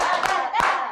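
Children in a class give a quick, brief round of clapping, a few close hand claps bunched together in about a second.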